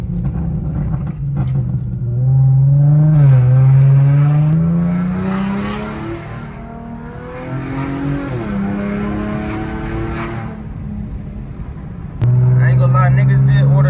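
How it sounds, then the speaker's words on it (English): A dirt bike engine revs loud and close, its pitch climbing and falling through repeated throttle blips, with a sharp exhaust bang near the end before the engine surges again. "I know y'all want to hear some pops and bangs. Let me see if she'll pop a little piece."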